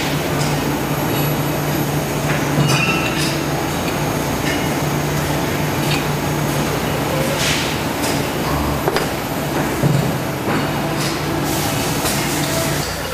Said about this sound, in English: this robot maintains these two presses, keeps them loaded, and outbounds to this conveyor